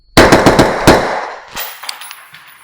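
A rapid string of six or seven sharp, muffled shots from a suppressed Knights Armament rifle fires in quick succession, followed by fainter metallic clatter and a few softer clicks.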